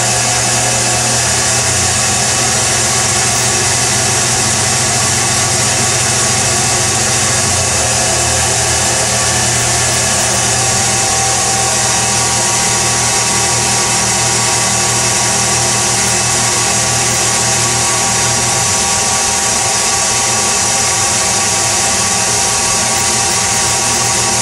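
A doubly fed generator in a classroom demonstration runs steadily at nearly 2200 RPM, giving a loud, constant mechanical hum and whine with a broad noisy hiss. The tone holds unchanged throughout, and no voices are heard.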